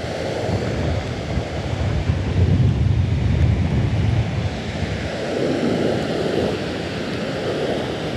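Storm-driven surf washes steadily onto a tropical island beach, a broad continuous roar of waves and wind with low rumbling swells, loud and close throughout, with no voices over it.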